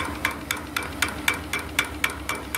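Small water pump on a rare return-flue horizontal boiler steam engine setup knocks in a steady, even rhythm, about four sharp metallic beats per second, close and distinct over a soft mechanical hiss.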